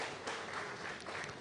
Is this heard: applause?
yes